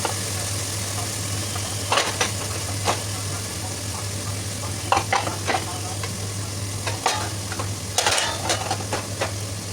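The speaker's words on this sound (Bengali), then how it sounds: "মাছ দিয়ে খুব ভালোভাবে নাড়াচাড়া করে একটু ঢেকে কষাতে থাকবো যাতে করে মাছগুলো খুব ভালোভাবে কষানো হয়" Snakehead fish pieces fry and sizzle in a pan for a bottle gourd curry while a spatula stirs them. Steady frying noise runs throughout, with scraping stir strokes recurring irregularly, and a low constant hum sits underneath. No one speaks.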